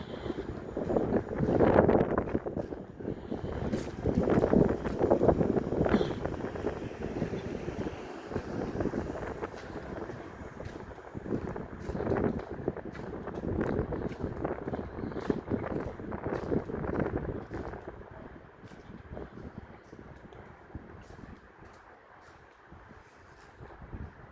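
Strong gusting wind outdoors in Saudi Arabia buffets the microphone in loud roaring surges, easing somewhat toward the end.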